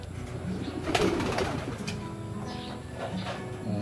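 Pigeons coo softly in a loft, low repeated calls set against a steady background hum with a few brief rustles.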